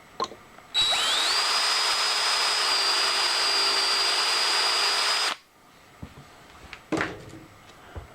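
A power drill enlarges a hole in a metal part, spinning up and whining steadily for about four and a half seconds before stopping, followed by a few faint clicks and knocks.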